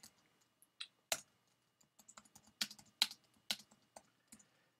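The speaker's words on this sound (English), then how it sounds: "I'm typing in the content." Typing on a computer keyboard, quiet irregular keystroke clicks in short bursts with a few louder taps, close and alone in a calm room.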